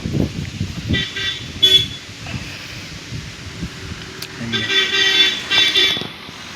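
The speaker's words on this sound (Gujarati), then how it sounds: "અહીં વાહન નીકળતો હોય ને એ જોવાની મજા આવે." On a village road past farm fields in rainy weather, a vehicle rolls by and sounds its horn in several short toots, the honks clear above wind and rustling, with a faint voice briefly in the background.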